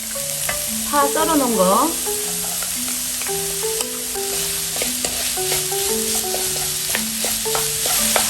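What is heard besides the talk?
stir-frying onion and garlic in cooking oil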